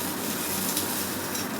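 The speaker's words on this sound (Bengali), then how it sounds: "এবার মা এই আমড়াগুলো এখানে দিয়ে দিলে একটু হালকা করে ভেজে নেবে এখানে মা, এবং ভেজে নিচ্ছেও" Hog plums (amra) frying in hot oil with panch phoron, a steady close sizzle with faint crackle throughout, no talk.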